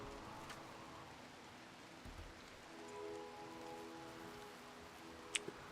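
Steady rainfall in the game Rimworld, a fog-and-rain weather setting with no wind, forms a soft, even hiss throughout with a couple of faint clicks near the end.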